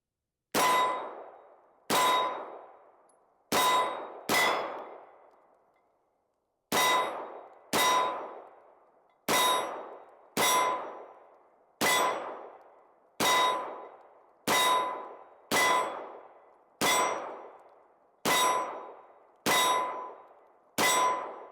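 FN Reflex pistol rounds striking steel targets at 10 yards, about fifteen sharp ringing clangs that each decay quickly, spaced irregularly with some quick pairs and gaps, with no speech.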